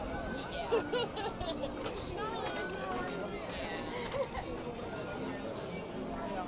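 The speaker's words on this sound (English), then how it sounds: "Looks like quite a crowd here on Main Street USA today." A dense, steady murmur of many overlapping voices fills Main Street USA at the Magic Kingdom while Christmas decorations are up, with a few footsteps and louder nearby exclamations rising from the busy theme-park crowd.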